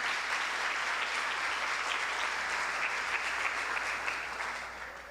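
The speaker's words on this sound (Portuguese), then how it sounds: "E por que não aplaude para valer mesmo?" Audience applause in a church during a priest's daily reflection: steady, dense clapping from a congregation, sustained and even throughout before easing slightly at the end.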